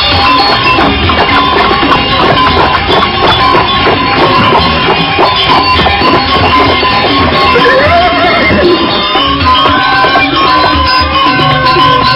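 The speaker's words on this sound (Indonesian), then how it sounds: "Kita tinggalkan sejenak gerobak kuda yang ditunggangi Mesin menuju kota Raja Majapahit" A horse neighs loudly in a radio drama scene with a horse-drawn cart, the whinny rising over a dense, constant background of cart and ambient sound effects.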